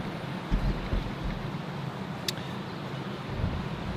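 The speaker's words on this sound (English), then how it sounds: "It's just the cold wind that's killing me." Cold wind gusting outdoors by a river near a hill at Arthurs Point, a steady broadband rush with low rumbling buffets across the microphone, fairly loud and continuous with no talk.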